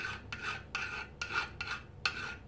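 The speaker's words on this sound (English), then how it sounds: "I'm just gonna go around the edge, take the burr off." Hand file rasping around the burred, mushroomed edge of a hammered snow blower bearing part, in several rhythmic strokes up close, with no talking.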